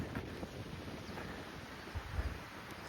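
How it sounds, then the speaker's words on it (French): Wind on an outdoor trail beside a fir plantation, a steady broadband rush with microphone buffeting and a few gusty thumps, no voices. "il y a un peu de vent"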